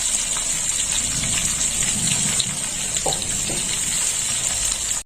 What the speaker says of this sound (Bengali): পাঁচটা মাছ ভেজে নেব